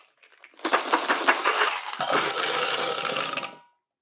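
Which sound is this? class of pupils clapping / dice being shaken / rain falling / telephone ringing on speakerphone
dice being shaken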